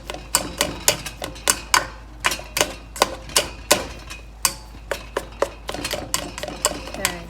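Cooked rice is smushed in a pan for Chinese fried rice, producing a steady run of sharp, close taps and clicks at a quick, even rhythm with no talking.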